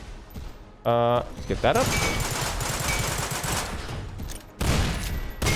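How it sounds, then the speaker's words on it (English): Shotgun blasts in the video game Synthetik 2: loud bursts of gunfire, one sharp burst early and another near the end, with someone talking over the action in between. "We're not going to have enough shotgun bullets if we keep doing this."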